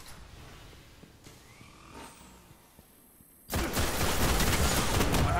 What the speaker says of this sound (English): I haven't seen a firefight like that since Twilight Gap